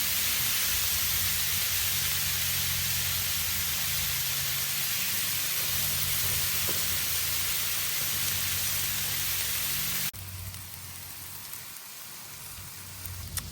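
Shaved ribeye, onions and green peppers sizzle loudly on a grill, a dense continuous crackling hiss that drops sharply to a quieter sizzle near the end.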